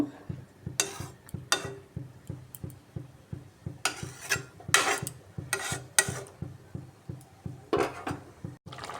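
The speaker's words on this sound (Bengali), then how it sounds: "গ্রেভিটা ফুটে উঠছে" Thick egg and potato curry gravy boiling in a pot, popping in a steady run of soft plops, with occasional louder clinks of utensils against the pot.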